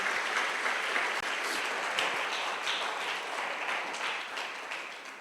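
A congregation at a Filipino church service breaks into loud, sustained applause, a thick continuous roar of many hands clapping, close and even throughout.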